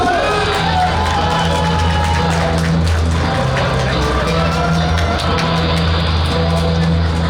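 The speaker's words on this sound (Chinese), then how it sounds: "我们热烈鼓掌，我们热烈鼓掌，最热烈的掌声来恭喜马总统致辞" A dense crowd at a Taiwanese political rally applauds and cheers for former president Ma Ying-jeou, a loud, continuous roar of clapping and shouts with whoops rising throughout.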